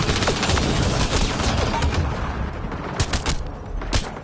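Rapid gunfire in the video game Mass Effect Andromeda: a dense, continuous fusillade of sharp shots with some sharper bursts near the end, loud and steady throughout.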